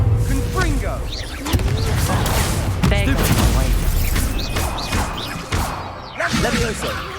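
A Confringo fire spell blast in Hogwarts Legacy bursts amid a busy duel, with repeated impacts, crashes and whooshes layered over speech and game music.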